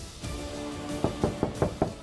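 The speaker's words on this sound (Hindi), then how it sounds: "हम कब से दरवाजा पीट रहे हैं" Someone pounds on a door with a series of sharp, evenly spaced knocks, about six firm thuds in quick succession after a few softer taps, close and clear with no talking.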